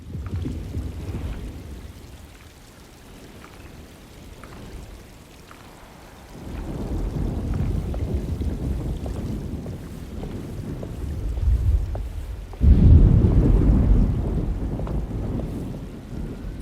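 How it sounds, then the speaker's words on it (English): Steady rain and gusting wind fill a stormy scene in the 2024 Alone in the Dark video game, broken by two deep, rolling thunder rumbles that swell loudly and fade slowly. "Looks like a storm's coming."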